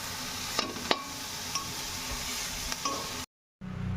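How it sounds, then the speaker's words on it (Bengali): Maggi masala spice frying in a pan for a diet atta chow mein, a steady close sizzle with a few stirring clinks, cutting out briefly near the end before resuming. "প্রথমে একটা দিয়ে এটাকে ভালো করে মশলাটা ফ্রাই করে নেব।"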